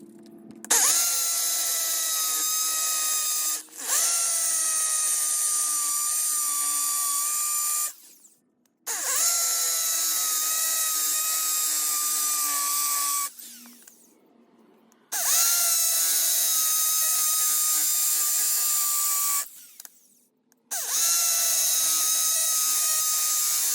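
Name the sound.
power drill drilling into concrete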